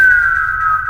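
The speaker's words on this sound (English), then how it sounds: "one microphone captured a perfect human whistle, followed by silence." A single steady, pure human whistle holds one pitch for about a second, clear and fairly loud over a faint low hum, recorded at night in the Namib Desert.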